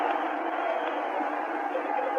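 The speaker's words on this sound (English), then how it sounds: "the crowd comes alive" Football stadium crowd at the 1967 Ice Bowl between the Cowboys and Packers, a dense sustained roar of cheering, steady and loud throughout the brief moment, heard from a distance.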